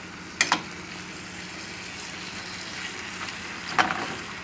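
Crabmeat Rockefeller cooking in a pan over the highest flame, giving a soft, steady frying hiss with a couple of faint clicks near the start and end.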